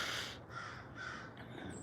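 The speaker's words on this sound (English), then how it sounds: "hear the crow out there, Mr. Dave, Mr. Dave" Outdoors, a crow gives a few faint, distant caws against steady background noise.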